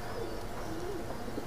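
Oman bloodline Teddy pigeons coo softly in a loft, a low wavering call rising and falling over a steady hiss of background noise, with no talking.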